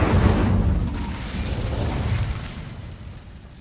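An Incendio fire spell bursts in the Hogwarts Legacy video game as a loud, close, rumbling blast that roars at the start and then fades over a few seconds, with no voices.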